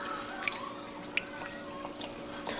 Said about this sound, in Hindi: इनको पानी में अच्छी तरह से यूँ मैश कर लें